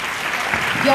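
Audience at a convention fan panel breaking into applause, a dense burst of many hands clapping that swells toward the end, with a brief spoken word over it.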